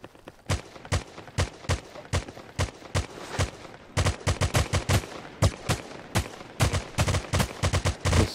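Gunfire in the browser shooter Crypto Shots: sharp single shots tapped out in a quick irregular rhythm, growing denser and slightly louder partway through, close and dry with no talking.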